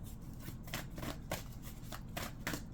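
Tarot cards are shuffled by hand in a quick series of riffling, flicking bursts, close and fairly loud, with no voices.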